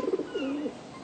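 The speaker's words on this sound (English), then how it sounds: "Pigeon." A pigeon in GTA 5 gives a soft, brief cooing call, a few quick low pulses followed by a longer warbling coo, near and on its own.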